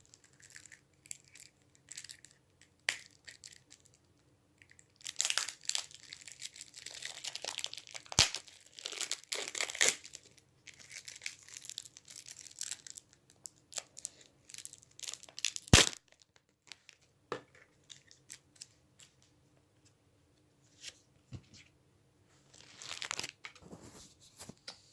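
A Yu-Gi-Oh structure deck is pried out of its packaging. Close, intermittent plastic crinkling, tearing and scrunching comes in bursts, with a few sharp clicks and quiet pauses between them.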